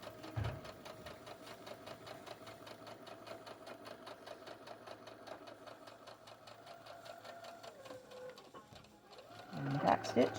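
A sewing machine runs in a long steady stitching pass around a centered zipper along a line of tape, a continuous close mechanical whir that slows and stops near the end, followed by handling noises.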